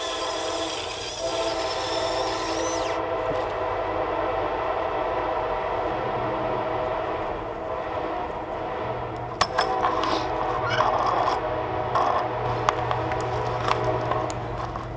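A train rumbles past nearby in a steady, continuous roar lasting the whole stretch, with a low drone and scattered metallic clanks and rattles toward the end; no one talks.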